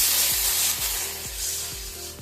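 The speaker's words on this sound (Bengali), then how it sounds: "দেখো কড়াইয়ের মধ্যে এবার 1 গ্লাস জল আমি দিয়ে দিচ্ছি" A glass of water poured into a hot kadai after frying raisins sets off a loud steady hiss of steam and spray, close and continuous, fading slightly toward the end.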